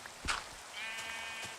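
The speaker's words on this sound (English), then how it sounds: "you see this poor sheep on the island all by himself?" A lone sheep in the Minecraft video game bleats in several short, clear calls over a quiet background, with no talking.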